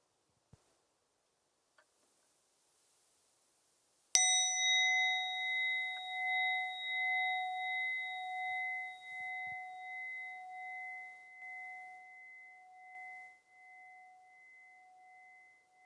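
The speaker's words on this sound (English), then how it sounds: "listen now to the sound of the bell" A single meditation bell struck once after near silence, its clear ringing tone sustaining with steady harmonics and slowly fading away over about twelve seconds, alone with no talking.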